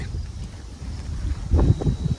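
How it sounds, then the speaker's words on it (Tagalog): Strong wind buffets the microphone in low, rumbling gusts, swelling louder toward the end, at an overnight campsite on Colosboa Hills in Cuyapo, Nueva Ecija, wrecking a tent. "sobrang lakas ng hangin"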